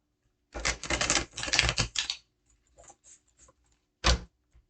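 Tarot cards are shuffled close by in a quick flurry of papery riffling and snapping, in two dense bursts, then a few soft taps and one last sharp riffle.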